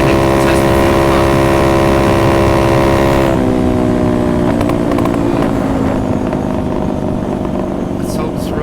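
A Honda Ruckus scooter held at max throttle during a fuel pump test, a loud, steady close engine drone with a drop in pitch partway through, with wind noise and some talking.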